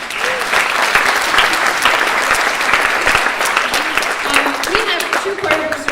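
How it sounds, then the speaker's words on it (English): An audience claps for choir fundraisers at a high school choir concert, loud, dense applause sustained throughout, with a voice briefly heard over it near the end. "So give them a round of applause"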